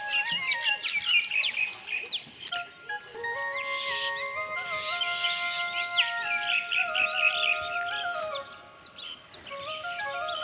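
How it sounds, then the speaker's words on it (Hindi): Several small birds chirp and tweet continuously, with overlapping high whistles and quick trills carrying through quiet, cold, foggy open air in rural Himachal Pradesh. "चिड़िया ची ची ची ची कर रही है।"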